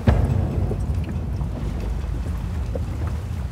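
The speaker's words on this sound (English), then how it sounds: "Just the noise of the boat and everything that goes on around you." Low rumbling boat noise at sea, a steady deep hull and engine drone mixed with wind and water wash, fairly loud and close, with no voices.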